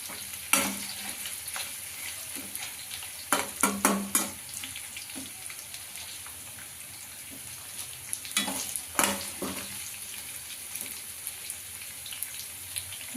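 Onions fry in a pan for brinjal, with a soft steady sizzle and a few louder scrapes and clatters from stirring, fairly quiet overall.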